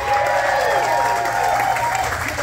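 Wedding guests applaud together inside a tented venue, a steady wash of clapping from a crowd that holds evenly for a couple of seconds, with a faint voice mixed in underneath.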